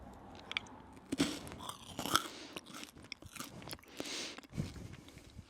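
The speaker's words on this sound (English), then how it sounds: "That was a beautiful crunch." A crunchy traditional Icelandic sweet is chewed close to the microphone, giving a run of irregular sharp crunches and bites with softer mouth sounds between them and no talking.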